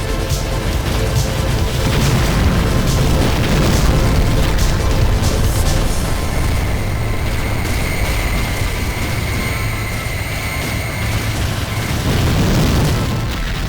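Heavy booming explosions from stream missiles fired in the space combat game Mace Griffin: Bounty Hunter, a dense, loud barrage of blasts rumbling continuously with no talk over them.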